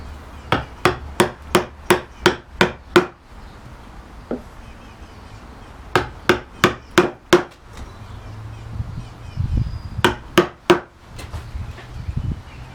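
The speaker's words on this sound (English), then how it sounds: "narrower chisel to chop this end grain here" A narrow chisel struck with a mallet to chop into wood end grain while cutting joinery, sharp close knocks in quick rhythmic bursts of about eight blows, separated by short pauses and quieter shuffling.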